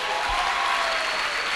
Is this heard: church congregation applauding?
yes